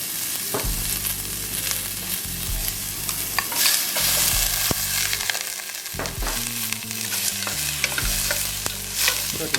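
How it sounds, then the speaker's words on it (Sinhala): Prawns fry with garlic in a hot pan for seafood paella, giving a loud, continuous sizzle broken by repeated stirring scrapes and clatters. No one speaks. "සුදු ලුණු මේ විදිහට මේක බැදීගෙන එනකොට දැන් මම එකතු කරන ඉස්සෝ ටික."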